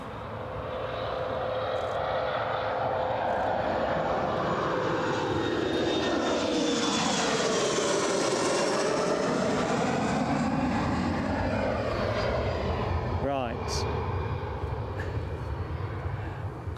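A departing airliner takes off from Newcastle airport, its jet engine roar swelling to a loud, broad peak mid-clip and then receding, steady and unbroken with no talk over it.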